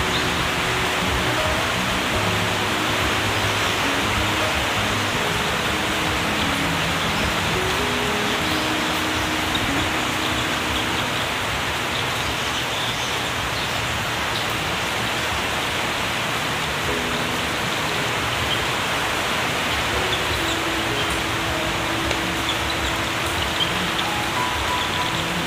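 Heavy, steady rain pours down without pause in the rural Mekong Delta countryside, a dense continuous hiss of drops drumming on surfaces that stays loud and even throughout, with no voices.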